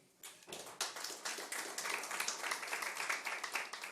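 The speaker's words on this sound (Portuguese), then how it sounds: "deixemos os aplausos para o final dos anúncios" An audience at a formal municipal ceremony claps together, the applause swelling quickly and holding as a dense, even patter of many hands nearby.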